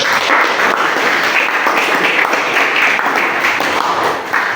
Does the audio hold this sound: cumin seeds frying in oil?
no